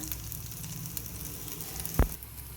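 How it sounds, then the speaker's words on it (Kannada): Cutlets shallow fry in a little oil in a pan over low gas, a steady close sizzle with one brief sharp knock partway through. "1 ಅಥವಾ 2 ಚಮಚ ಎಣ್ಣೆ ಹಾಕಿ ಗ್ಯಾಸಲ್ಲಿ ಸಣ್ಣ ಸ್ಲೋ ಇದರಲ್ಲಿ ಫ್ರೈ ಮಾಡಬೇಕು."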